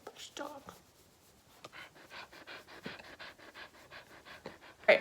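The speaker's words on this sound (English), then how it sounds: "He's the best dog." A pet dog pants close to the microphone in a quick, steady rhythm of short breaths, with quiet human talk heard early on.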